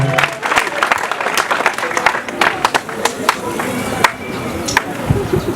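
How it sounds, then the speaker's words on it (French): Students at a school exam-launch ceremony applaud. The clapping is sparse and uneven, with sharp individual claps over a crowd murmur, and voices can be heard in the background. "Chers élèves, je vous prierai d'applaudir très fort"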